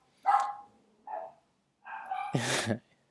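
Several dogs bark in three short bursts, with gaps of quiet between them and a louder final bark, moderately close and with no talking.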